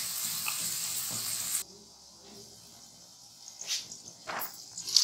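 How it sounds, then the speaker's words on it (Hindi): Marinated minced keema sizzles in oil with masala for Hyderabadi bhuna keema, a loud hiss at first that drops to a quieter fry, with scattered stirring scrapes toward the end. "मैरिनेट किया हुआ कीमा इसमें ऐड करके और भूनेंगे।"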